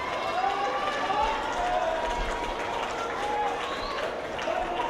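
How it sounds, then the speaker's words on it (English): Crowd at a football match between Cunipia Predators and Santa Rosa FC applauding a substitution, a steady broad wash of clapping and cheering throughout, loud and continuous, with a commentator's voice over it. "Just listen to that applause."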